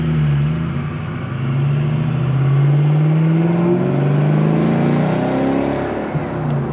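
A 2003 Ford Cobra with a VMP-supercharged modular V8 pulls off boost as a loud, steady engine drone with a low, slowly swelling note that runs throughout, with no talking.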